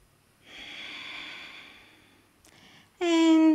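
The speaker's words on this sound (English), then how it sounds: "Last deep breath." During a yoga session, someone takes a long, slow, audible deep breath in, then lets it out in a short, voiced sigh.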